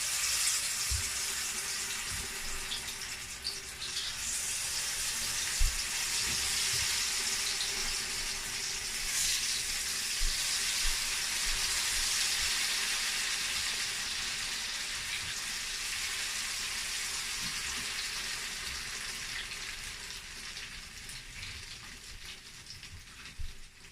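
Akara bean batter fries in hot oil with a continuous crackling sizzle, steady and fairly close, broken by occasional soft pops and clicks.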